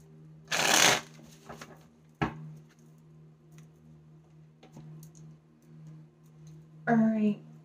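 Tarot cards being shuffled close by, with a loud riffling burst at the start followed by softer scattered taps and slides of the deck over a faint steady hum, then a short voiced sound near the end.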